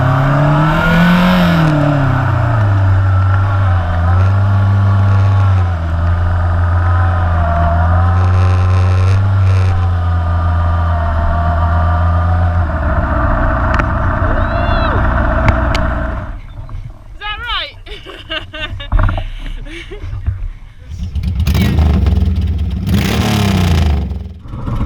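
Motorcycles ride fast through a motogymkhana training course at a motorcycle training centre, engines revving and rising and falling in pitch as bikes accelerate and turn, loud and close, with people talking over some of it.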